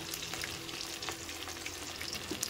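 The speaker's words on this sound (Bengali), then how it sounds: "ফোড়নে দেবো 5 ফোড়ন আর তেজপাতা। এটাকেও আমি ভালো করে নেড়ে চেড়ে ভেজে নিয়ে" Panch phoron and bay leaves frying in oil, giving a continuous quiet crackling sizzle with occasional stirring, close but faint.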